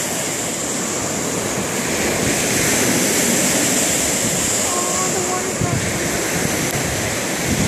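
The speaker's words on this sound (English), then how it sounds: "the water's lapping up" Water laps and washes against a shore beside rocky bluffs, a loud, continuous surf-like rush with a steady windy hiss, no voices over it.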